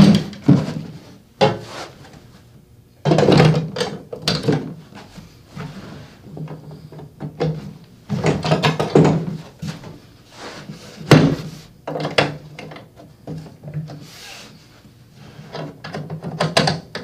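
Hopper and extension pieces fitted onto a Stinger Gateway machine, with repeated hard plastic clunks, clicks and rattles in scattered bursts, close and fairly loud, separated by quiet gaps.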